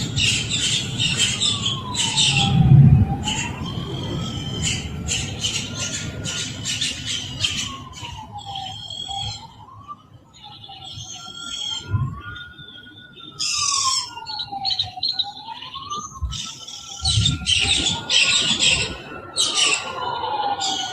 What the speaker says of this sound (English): Now, you hear them birds.